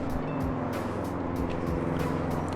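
A Subaru STI engine idles with a deep, throaty rumble and periodic bursts, steady and close throughout.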